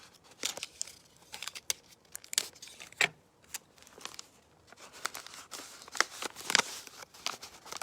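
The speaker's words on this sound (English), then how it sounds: "And I'm going to tape that shut." Sticky tape is pulled and torn close up to seal a paper rocket, giving a series of sharp ripping and crinkling bursts separated by short pauses.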